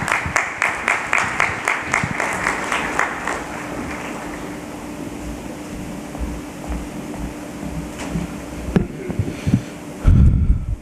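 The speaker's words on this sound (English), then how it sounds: "A round of applause to Dr. Neerav Mandir." Audience applause at an HR conclave, with rhythmic thumping pulses in the first few seconds that settle into a sustained, even wash of clapping, then a louder burst near the end.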